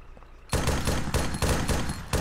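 Several loud, close gunshots from an Arma 3 wasteland match, a sudden burst of four or five heavy reports in quick, uneven succession following a quiet moment.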